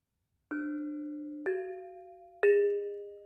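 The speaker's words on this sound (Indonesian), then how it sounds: "tapi di Bali ini disebut dengan reong." Reong, the Balinese gamelan gong-chime, struck three times at a steady pace, each bronze note ringing and sustaining with a bright metallic tone, played alone.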